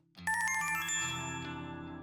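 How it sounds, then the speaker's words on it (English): A phone ringtone plays a bright melodic tune, starting abruptly and ringing on steadily, fairly quiet over a low background drone in a convenience store. No one speaks. "I barely register the quiet melody of a ringtone"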